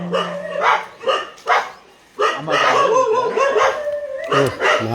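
A dog barks in several loud, close bursts, yelping and whining between them, some barks drawn out into a howling tone, with a voice briefly mixed in.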